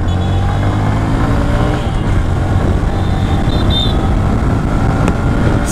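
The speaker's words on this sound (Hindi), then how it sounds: "थोड़ा बाइक को खींच के राइड करते हैं" A 2024 Bajaj Platina 110 ABS motorcycle ridden on a road, its engine giving a steady, loud drone with wind rush throughout and no let-up.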